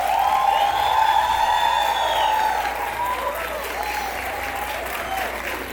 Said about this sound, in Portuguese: Agora, eu quero uma salva de palmas para a Roberta